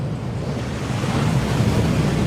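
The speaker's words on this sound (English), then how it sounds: "That waterfall washes away all enchantments." Rushing waterfall in the Hogwarts Legacy video game, a steady, dense wash of falling water with a low roar that holds constant and unbroken throughout, with no voices.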